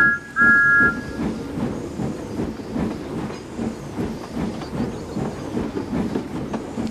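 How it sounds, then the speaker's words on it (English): A steam locomotive pulling two coaches rolls into a station with a steady clattering rumble of wheels and chuffing, opening with a brief sharp whistle. "Later, Thomas puffed into the station with Annie and Clarabelle"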